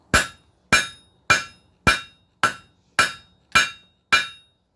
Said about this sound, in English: It's where you use the round side of your hammer to push and pull the metal.